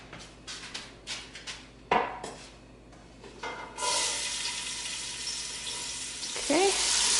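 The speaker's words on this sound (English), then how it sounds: "We'll go ahead and put these onions in." Onions go into a hot pan and are stirred: several scraping clatters come first, then a loud, steady sizzle rises and swells near the end.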